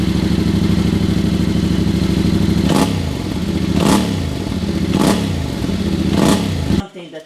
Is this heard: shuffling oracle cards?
no